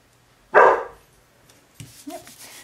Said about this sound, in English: so I apologize if they're gonna bark